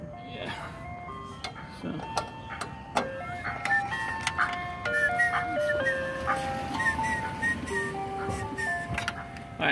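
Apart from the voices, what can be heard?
ice cream truck jingle passing in neighborhood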